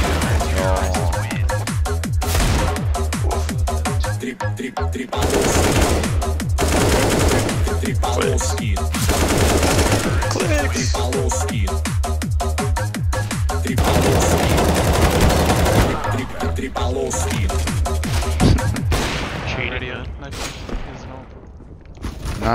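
Counter-Strike: Global Offensive gunfire: near-continuous rapid shots and automatic bursts fill most of the stretch, loud and dense, with players talking over the action before it thins out toward the end.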